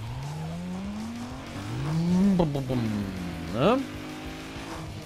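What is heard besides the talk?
car driving and drifting in video game Need for Speed Underground 2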